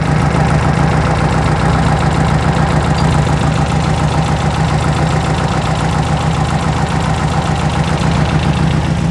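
A sand rail's 2.2-litre engine running on dual 44 IDF carburetors idles steadily and loudly up close, a continuous throbbing rumble with no voices over it.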